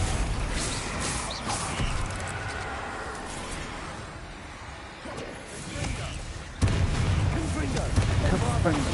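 Bombarda explosion spell cast in Hogwarts Legacy, heavy booming blasts with rumbling debris, one sharp loud burst near the end, amid combat noise.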